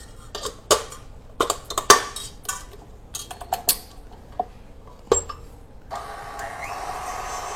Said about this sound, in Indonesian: ini kita kocok dulu